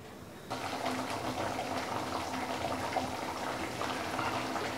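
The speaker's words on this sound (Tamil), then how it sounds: "தேவையான அளவுக்கு தண்ணி உப்பு எல்லாம் சேர்த்து கொதிக்க ஆரம்பிச்சிருச்சு." A steady bubbling, churning sound of cauliflower gravy with water and salt boiling in a pot, continuous and fairly loud, with no talking.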